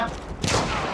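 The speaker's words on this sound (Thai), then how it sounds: "เสียงปืนมา" Gunfire in the video game Battlefield 1, a loud burst of shots breaking out midway through the moment and ringing on with a rumbling tail.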